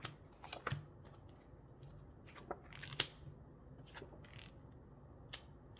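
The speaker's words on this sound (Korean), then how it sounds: "속마음 카드 한번 뽑아봐서 제가 매칭을 한번 시켜서 좀 보충 카드 뽑아볼게요" Tarot cards being shuffled and drawn during a reading, heard as faint, sparse papery flicks and soft snaps scattered across a quiet background.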